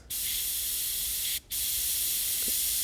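Airbrush spraying paint onto a carved wooden tiger trout, a steady close hiss of air and paint that cuts out briefly midway before resuming, with no talking.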